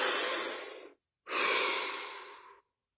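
One deep breath is drawn close to the microphone: a long, airy inhale, a brief pause, then an equally long, slow exhale.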